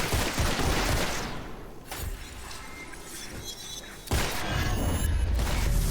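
Revolver shots ring out in Witchfire, sharp cracks with shattering impacts that come in two dense bursts separated by a quieter stretch of game sound.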